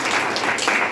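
Loud, brief applause from a church congregation, a thick burst of many hands clapping together up close.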